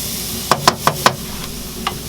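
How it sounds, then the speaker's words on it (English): Garlic sautés and browns in a pan for a chicken giblet stir fry: a soft, steady sizzle runs beneath a quick series of four or five sharp knocks, then one more tap, with no talk. "we're just going to saute this for probably a good 3 to 4 minutes just to brown it up a little bit"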